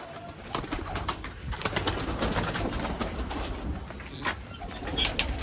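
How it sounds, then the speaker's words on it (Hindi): Pigeons coo quietly amid a busy flock in a pigeon loft in Rampur, with scattered flutters and shuffling, while a constant low rumble runs underneath. "ये रहा गाइस इनका दूसरा लोफ्ट राहिल भाई का, रामपुर के अंदर।"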